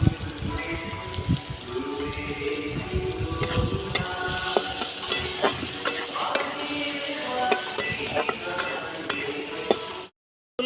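Spices and a spoonful of turmeric fry in hot oil in a pan, a close, continuous sizzle with scattered clicks and scrapes of stirring, cutting off abruptly at the end.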